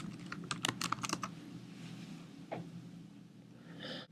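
Fingers type on a computer keyboard into a search box, a quick burst of key clicks followed by a few sparse taps, close and clear with no voices.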